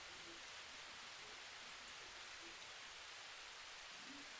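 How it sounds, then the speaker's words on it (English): Steady rain falls outdoors, a dense even hiss of drops on surfaces that holds at constant loudness throughout, with no voices. "let me check my volume because this rain sound loud"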